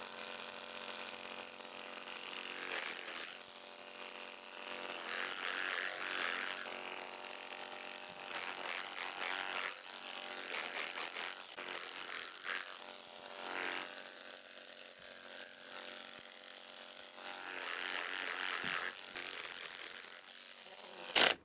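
Electric clippers with worn blades trimming a miniature horse's bridle path, a steady close buzzing hum that runs for the whole stretch at even loudness, with no one talking.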